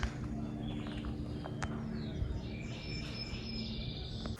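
Faint bird chirps and short whistling calls over a low, steady outdoor background at The Wilds safari park, quiet and somewhat distant.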